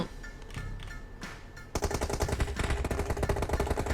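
Rapid bursts of automatic gunfire in PUBG Mobile start abruptly and keep rattling loudly, following a quieter, muffled stretch.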